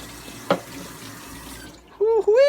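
Water runs steadily from a tap in a jail cell with a soft rushing sound and a clink partway through, then a voice cuts in briefly at the end.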